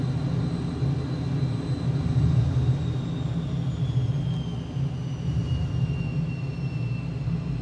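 An F-15 jet engine in Microsoft Flight Simulator gives a steady, loud, continuous roar with a low rumble. A thin high whine slowly drops in pitch as the throttle is eased back, with no talk.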